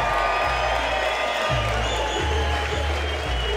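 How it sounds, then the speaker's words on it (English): Audience applause and cheering for contestants at an FFTC 2012 event, a loud, sustained wash of clapping with whoops rising from the crowd and a voice speaking over it. "applause for Warren Wilkinson and Darren Fleming"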